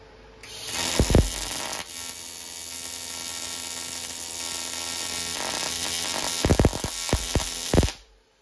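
Welding a shaped aluminium patch clamped into a Porsche 928 body: a steady electric buzz and hiss runs for about seven seconds, punctuated by sharp crackling bursts near the start and end.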